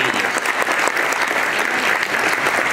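A keynote audience at the Innovate 2013 conference breaks into dense, loud applause, a continuous close roar of many hands clapping that holds steady throughout.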